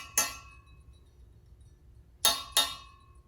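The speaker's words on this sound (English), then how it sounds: "We also had a large metal cup. It was filled about halfway, maybe a little bit more with water" A large metal cup filled a little over halfway with water is tapped three times, giving bright ringing metallic tones: one strike, a long pause, then two close strikes, each decaying slowly in a quiet room.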